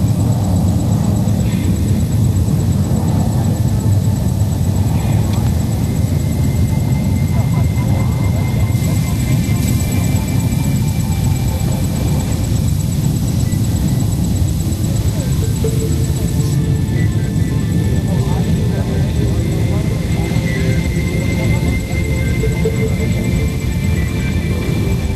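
Indian Air Force transport aircraft in flight during a para-drop, a loud, steady engine drone and rumble filling the whole stretch with no break, heard from close inside or near the airframe.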